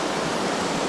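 Headquarters Creek running fast with high water, a dense, steady rushing wash heard up close for a brief moment, with no voices.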